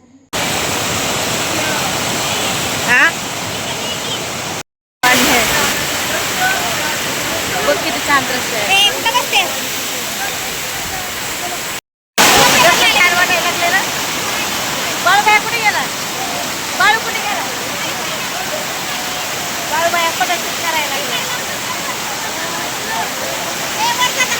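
Loud, constant roar of rushing mountain water near Lonavala pours on without pause, close and full, with faint voices barely surfacing through it.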